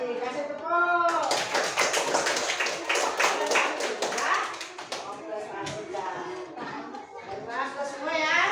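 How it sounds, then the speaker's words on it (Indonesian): A classroom of students applauds after a group presentation on states of matter, a burst of scattered hand claps lasting a few seconds under and around children's chatter and a teacher's voice. "Kasih tepuk."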